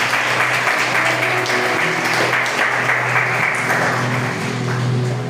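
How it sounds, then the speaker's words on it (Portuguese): A church congregation applauds during a Sunday service, a dense, loud, steady wash of clapping that lasts throughout. "Você pode aplaudir ao Senhor por isso."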